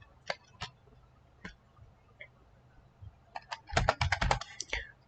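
Someone types "localhost" into a browser address bar on a computer keyboard: a few scattered key clicks, a pause, then a quick cluster of keystrokes, soft and close.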